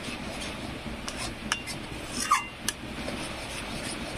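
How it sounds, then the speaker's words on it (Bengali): A spoon scrapes and stirs a thickening, buttery gujia filling in a pan, giving soft repeated scrapes with a few sharper clinks, quiet and close, no talking. "এইভাবে কিন্তু নাড়তে হবে, ঘন ঘন নাড়বে, নাহলে নেচেতে বসে যাবে"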